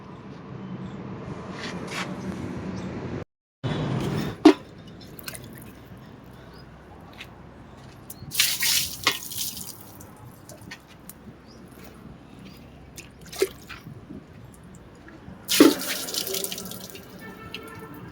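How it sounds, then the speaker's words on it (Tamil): Water poured over a rusty iron surface during cleaning, splashing and running in short bursts with a brief gap, moderately close, no talk. "தண்ணி ஊற்றி கொஞ்சம் கழுவிட்டு"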